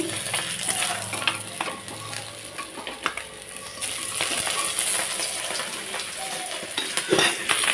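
Bata fish frying in oil in a pan, a steady crackling sizzle with scattered clinks and scrapes of a utensil turning the pieces, no one talking.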